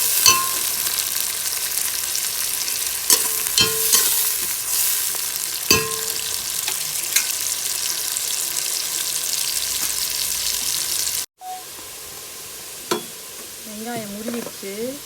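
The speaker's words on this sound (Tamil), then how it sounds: "நல்லா வந்து பொன்னிறமாக வரணும் வெங்காயம்" Onions sizzle and fry in a pan for a Tamil-style ghee rice, stirred with occasional scraping strokes, the steady close frying hiss broken by a brief pause near the end.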